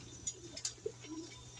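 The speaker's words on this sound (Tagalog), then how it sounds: "Nagtatawag si Red, mga kalapatids." A pet pigeon named Red coos quietly, a few short soft low calls close by in a calm setting, with faint background noise.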